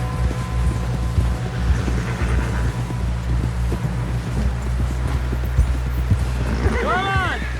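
Rhythmic clip-clop of horse hooves in Red Dead Redemption 2, a steady gait under wind noise with voices talking over it and a brief whinny-like call near the end.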